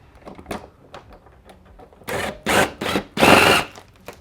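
A front splitter on a BMW M4 F82 is screwed into its factory fixings from underneath, with light ticking and scraping at first, then four loud, close bursts of a whirring driver, each cut short, the last the longest.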